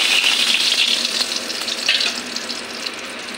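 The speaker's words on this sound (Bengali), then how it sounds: "ভাজা তেলে কড়াইতে আমি ক্যাপসিকাম," Capsicum fries in hot oil in a wok, giving a loud, dense, steady sizzling hiss that eases slightly toward the end, close up with no voices.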